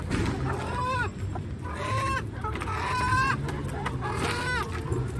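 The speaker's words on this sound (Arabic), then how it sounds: "عايزه اذبح الفراخ دي كلها واخلص منها" Several farm chickens cluck and squawk close by in repeated bursts, over a constant low background hum.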